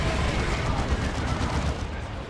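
Twin lascannon fire from a Land Raider Phobos in a Dawn of War 2 Elite Mod match, heard as a dense, sustained barrage of blasts and crackling shots filling the whole stretch at steady loudness.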